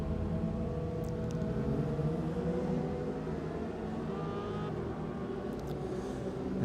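A 600-class Honda racing motorcycle heads out onto the circuit during morning practice at an Asia road racing round in Japan. The engine note is steady and fairly distant, with no voices.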